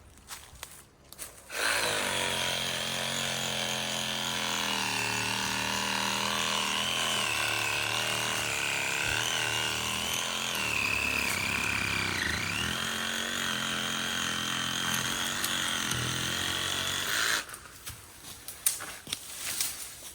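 A saw cuts down a small maca tree outdoors in Jamaica, its loud, steady motorized buzz running continuously for most of the stretch before cutting off near the end, without talk.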